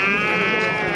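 A sheep at a livestock market in Batken lets out a single close, loud bleat.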